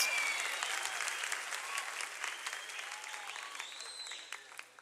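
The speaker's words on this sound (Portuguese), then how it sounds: "Pode aplaudir Jesus, nós vamos ver a glória de Deus hoje." A church congregation applauding in a dense, steady wash of clapping that runs throughout and thins slightly toward the end, with faint voices mixed in.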